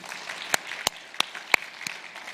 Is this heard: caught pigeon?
no